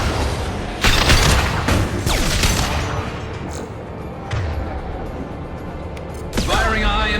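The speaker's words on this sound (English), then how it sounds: "Firing a high-impact shot!" Gunfire and explosions in the Mass Effect 2 video game, heavy booming shots and bursts in loud clusters with rumbling tails, mixed with game voices and battle effects.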